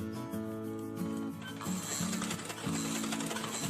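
A sewing machine stitches in a replacement zipper on a pair of jeans, giving a steady close mechanical whirr and rattle that shifts in speed over a few seconds.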